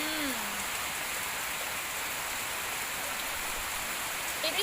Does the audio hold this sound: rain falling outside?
yes